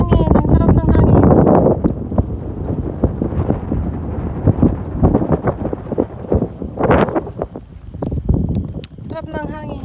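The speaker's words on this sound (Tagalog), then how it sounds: "Sarap ng hangin. Mahangin." Strong wind by the sea buffets the microphone in loud, gusty rumbles that rise and fall throughout, with a person talking over it.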